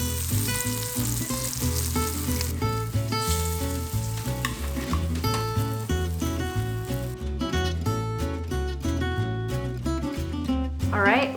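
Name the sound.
battered sardines frying in oil in a small pan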